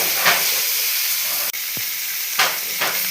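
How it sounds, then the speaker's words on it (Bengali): Boiled chalta fruit frying in hot oil with ginger and chilli, a loud steady sizzle and hiss with a few stirring scrapes and spatters throughout. "এর মধ্যে দিয়ে দিচ্ছি এবার সেদ্ধ করা যে চালটাটিকে আমি কিছুক্ষণ তেলেতে ভেজে নিচ্ছি।"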